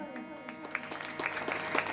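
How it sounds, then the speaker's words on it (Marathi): Crowd applause at a Marathi devotional discourse gathering, a steady wash of clapping with sharper claps throughout, mixed with background sound over the full stretch. "जोरदार टाळ्या"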